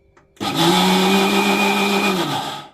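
A kitchen mixer grinder runs on dry rice with no water added, starting abruptly into a loud, steady whine and rattle that holds for about two seconds before winding down, with no talking.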